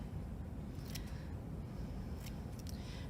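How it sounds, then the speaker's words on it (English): Scissors snip a few times over a steady background hiss, the crisp cuts clustered in two brief groups. "I'm gonna use my scissors."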